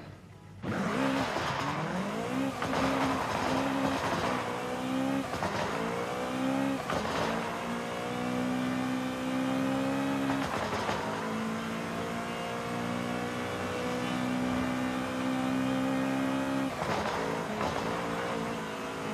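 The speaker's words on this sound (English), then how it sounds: "So we can't drive it full throttle, we have to drive it like semi-throttle." A car in the Forza Horizon 5 racing game driven at part throttle, its engine droning and revving steadily with pitch rises and dips and a few sharp shifts, loud and continuous with no talk.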